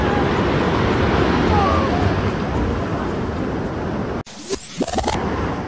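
Sea waves wash onto a beach at night as a steady broadband rush. A sharp break follows near the end with some brief rustling noise.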